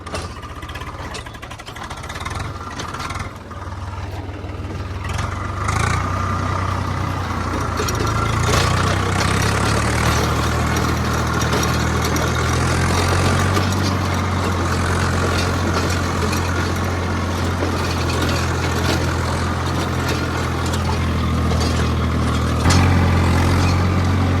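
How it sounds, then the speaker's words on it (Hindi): Tractor engine working a rotavator in a farm field, a steady loud mid-pitched diesel drone with the rotor's churning and rattle layered over it, the revs shifting slightly over time, with no speech. "तो अपन ने यहाँ पर रोटावेटर चला दिया है और अब यहाँ से निकलते हैं।"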